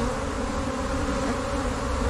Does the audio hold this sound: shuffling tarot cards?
no